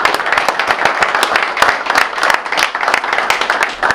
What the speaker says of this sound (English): so we want to give him a round of applause.